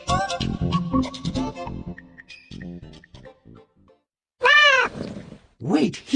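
An animated cat in a folk tale gives a couple of clear, drawn-out meows after a narrator speaks, loud and close with short pauses between them.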